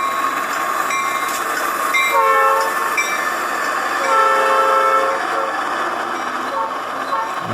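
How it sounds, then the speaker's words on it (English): A train horn in the Trainz railway simulator blows in two long sustained blasts with a rumbling train underneath and a bell faintly audible in the background. "That's actually a better horn than the one I used earlier."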